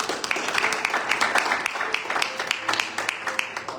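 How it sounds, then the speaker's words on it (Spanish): Church congregation applauding at a Spanish-language worship service, a dense spread of many hands clapping at moderate distance with a lively, uneven rhythm. "Denle un aplauso al Señor."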